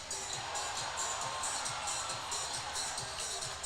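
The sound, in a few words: crowd cheering at ice hockey game after fight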